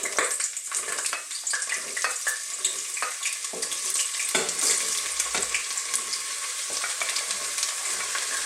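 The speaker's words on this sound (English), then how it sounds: "That was just a little bit of sunflower oil in the pan there that I was heating up" Chopped vegetables sizzle and crackle steadily in a pan of hot sunflower oil, a loud continuous fry with scattered sharper pops and stirring scrapes.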